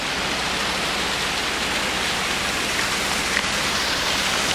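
A large waterfall pours down high in the Coast Mountains, a steady, dense roar of falling water that stays close and constant throughout with no voices.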